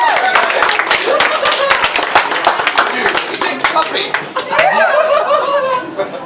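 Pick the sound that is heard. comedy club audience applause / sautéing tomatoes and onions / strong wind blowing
comedy club audience applause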